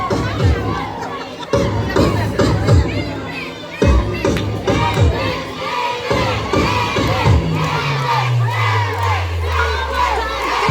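A large crowd shouts and cheers loudly in repeated waves at a church sports festival, voices swelling together, with a descending musical tone sliding down near the end.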